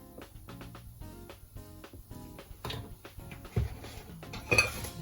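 A spoon clinks and scrapes around a bowl as a bruschetta topping is mixed with olive oil and balsamic. The taps come in quick, uneven bursts, with a few louder knocks toward the end.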